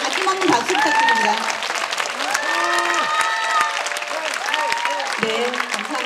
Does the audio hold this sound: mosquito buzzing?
no